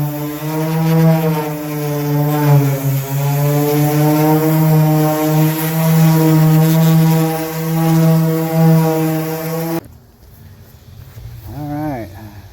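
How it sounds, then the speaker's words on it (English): A power sander works over the paint on a 1992 Chevrolet Silverado C1500, a loud, close, steady droning whine that holds for about ten seconds before cutting off, followed by quieter handling noise. "Alright, let's get more of it sanded."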